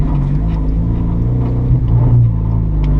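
A manual car's engine, the Mustang or Civic with mufflers removed, roars loudly and close as gas is given, a dense rumbling drone that swells slightly toward the end.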